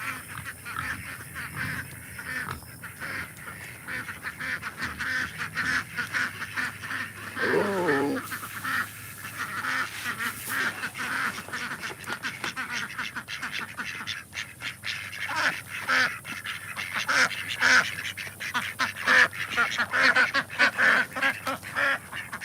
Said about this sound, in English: And some ducks.